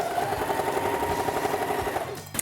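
A sewing machine chain piecing fabric runs at a steady, rapid, continuous hum and clatter, close and loud, before slowing to a stop.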